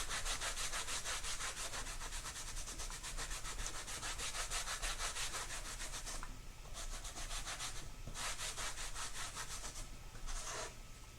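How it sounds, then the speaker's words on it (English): A microfiber cloth buffing wax over a craft project surface, continuous rhythmic rubbing strokes close up, with a few brief pauses. "So I got a clean spot on my microfiber, and after you wax on, you wax off."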